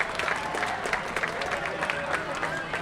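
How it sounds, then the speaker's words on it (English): Baseball fans applaud at a Laredo Lemurs versus Joplin Blasterds game in Laredo, a steady, moderately distant crowd clapping under a broadcaster's voice. "As the fans applaud"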